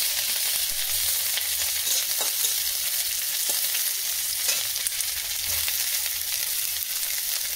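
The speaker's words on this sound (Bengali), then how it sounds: "যেই তেজপাতাটা একটু কালো কালো হয়ে যাবে, সঙ্গে সঙ্গে পেঁয়াজ দিয়ে দিচ্ছি" Onions sizzle and fry steadily in hot oil with bay leaves, a loud, continuous close hiss that barely changes from start to end, with no talking.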